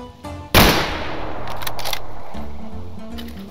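A single loud shotgun blast from the video game Stalker Old World cracks out, its echo trailing away while faint background game sounds and distant shots follow.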